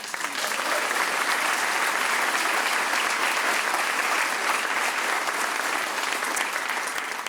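An audience at a community storytelling event applauds and cheers for a beginner English language learning class, steady loud clapping sustained throughout with no talk over it.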